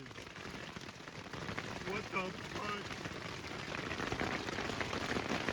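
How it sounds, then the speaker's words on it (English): Hail pelts a camping tent tarp in a steady, dense patter of close impacts that builds slightly over the seconds, with people talking and exclaiming over it. "Oh, look at how big that hail is."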